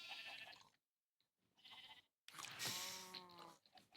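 Sheep in a Minecraft-style block video game bleat in three separate bursts, the last a loud, drawn-out harmonic baa, heard up close with no talk over them.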